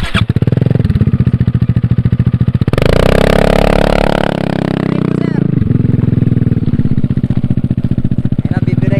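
A Yamaha XMAX 300cc scooter fitted with an Akrapovic exhaust idles with a loud, rapid, throaty burble, then revs hard for a couple of seconds before settling back to a steady lumpy idle close to the microphone.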